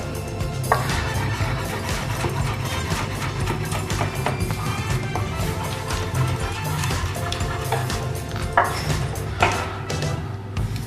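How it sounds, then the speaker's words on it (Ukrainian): Tomatoes being sliced with a knife on a board for tomato carpaccio with shrimp, with repeated sharp cuts and knocks over a busy kitchen background of clattering dishes, steady and close throughout. "нарізаємо томати"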